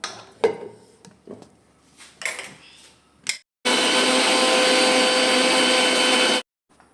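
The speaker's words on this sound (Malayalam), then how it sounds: "നമുക്കിതിനെ അരച്ചു കൊടുക്കാം" An electric mixer grinder whirs loudly and steadily for about three seconds as it grinds sugar in a Kerala kitchen, preceded by clinks and handling of the jar and lid.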